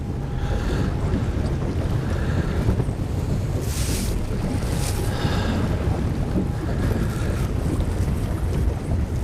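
Wind gusting across Grand Lake at Twin Bridges during crappie fishing, a loud continuous rumble battering the microphone with swelling surges and no talking.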